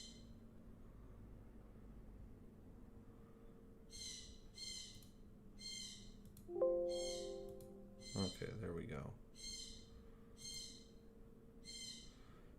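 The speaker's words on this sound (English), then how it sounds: "my bird's freaking out." A pet bird indoors repeats a steady series of short, evenly spaced calls and squawks, fairly faint against room hum. Someone speaks briefly partway through.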